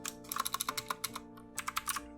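Typing on a computer keyboard, a close, quick run of crisp key clicks in two short bursts separated by a brief pause.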